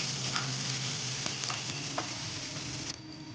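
Finely chopped garlic and green chillies fry in hot oil with a loud, continuous sizzle close by, punctuated by light stirring scrapes and small pops.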